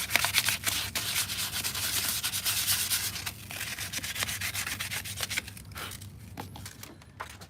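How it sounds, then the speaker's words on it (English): Hand sanding of Infiniti G37 coupe pillar trim with 500 grit sandpaper, a rapid rhythmic scratchy rasp of many back-and-forth strokes, close and loud, thinning out near the end. "Lightly scuff it up a little bit."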